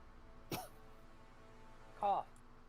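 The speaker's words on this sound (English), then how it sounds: "Cough." Two short throaty coughs, the second louder and rougher, sound close up against a quiet background.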